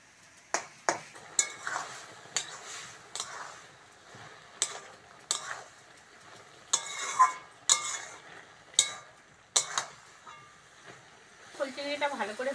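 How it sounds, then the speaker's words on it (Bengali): Prawns and potatoes are fried together in a pan for a village-style recipe. A spatula clinks and scrapes against the pan in sharp, close strikes roughly once a second, with quieter frying noise between them. "আলুর সঙ্গে ফুল চিংড়িটা ভালো করে ভেজে নেবো।"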